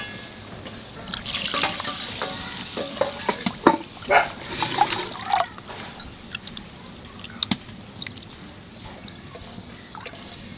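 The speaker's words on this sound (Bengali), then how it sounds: "চালটাকে ধুয়ে নেবো ভালো করে।" Rice being washed in water in a pot makes uneven sloshing and splashing, with scattered drips and knocks against the vessel, busiest in the first half and tapering into quieter trickles.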